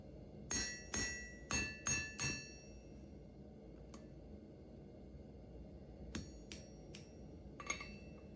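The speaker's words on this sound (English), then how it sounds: "here I'm hammering on the end of the anvil to start a corner" Sharp metallic hammer blows ring out as steel is hammered on the end of an anvil to form a corner for a belt hook, a quick run of five strikes followed by a pause and a few more scattered hits.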